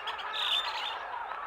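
Birds chirp in a short bright burst of close, fast twittering song, alone with no voices.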